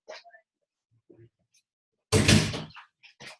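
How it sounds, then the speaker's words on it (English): A bedroom door in a home is shut with one firm thunk that trails off briefly, set between faint scattered voice sounds. "Ruby, please shut your door."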